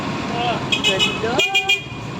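Car horns toot in short bursts amid road traffic at a town hall decorated with Christmas lights, several quick honks close by, with people talking over them.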